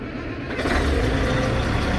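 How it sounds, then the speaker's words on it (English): A Caterpillar machine's diesel engine starts up with a short cranking burst, then settles into a steady, loud, rumbling idle at close range with no talk over it. "So now I'm going to start the machine."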